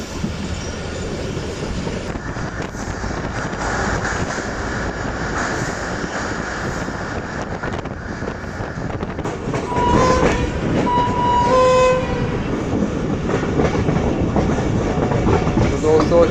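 Shalimar Express passenger train rolling along the tracks near Rohri, with steady wheel rumble and rhythmic clickety-clack, occasional wheel squeal and a brief horn-like tone, loud and continuous throughout.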